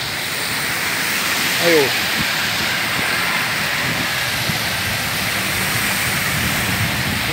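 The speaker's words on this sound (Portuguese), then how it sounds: "Muita chuva, água demais." Heavy rain pours onto a street in Aparecida de Goiânia, a steady broadband wash with cars passing through the water, and someone speaks briefly over the downpour.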